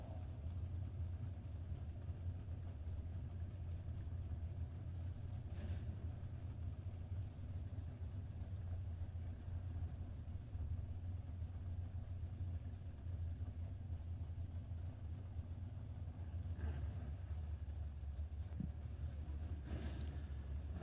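A Camaro and an S10 sit at the start line of a no-box 660 drag race, a steady low rumble of big engines idling heard from a distance, with faint occasional higher blips over the constant drone.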